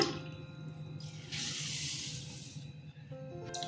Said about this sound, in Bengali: আমি জলটা আগে দিয়ে দিলাম